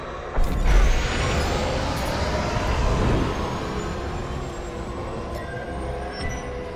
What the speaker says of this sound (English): Now, throttle up and deploy out of the hangar.